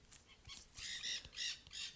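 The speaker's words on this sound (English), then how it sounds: "these birds are funny" Birds squawk and caw repeatedly in harsh bursts, several calls in quick succession at a moderate distance, with no talking.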